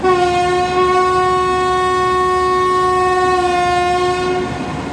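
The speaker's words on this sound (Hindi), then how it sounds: "सिग्नल हो गया है जी, और किसी भी वक्त अब विसिल होगा।" Pak Business Express locomotive whistle blowing in dense fog and bitter cold, a loud, steady, hoarse horn held for about four and a half seconds over a rumbling train background before it cuts off.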